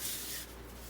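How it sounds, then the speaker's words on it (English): Soft, close rubbing and brushing as flour is worked onto a rolling pin while making pasties, a steady hiss that eases off halfway through, with no talking. "And now he's going to rub our rolling pin"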